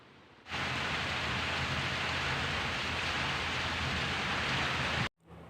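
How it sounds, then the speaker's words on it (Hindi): Heavy rain pours down in a dense, steady hiss, starting abruptly and continuing unbroken before cutting off. "देखिए बारिश की आवाज़ कितनी तेज़ आ रही है, बारिश बहुत ही तेज़ शुरू हो गई है।"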